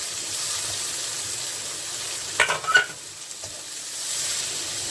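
A steady sizzle of onions frying in hot oil in a pan fills the clip, with a short burst of louder crackling and clatter midway.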